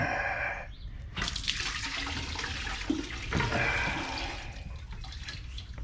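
Coolant gushing from a pulled bottom radiator hose into a bucket and onto a garage floor, a loud rushing pour that starts abruptly after a second and splashes steadily, close up with no speech.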